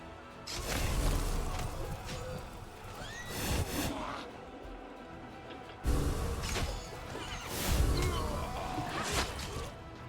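A horse whinnies amid a busy, noisy game soundscape in Pathfinder: Wrath of the Righteous, with whooshes and crashes, repeating a couple of times at moderate loudness.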